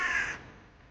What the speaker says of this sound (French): on n'entend plus que le chant des corbeaux à l'aéroport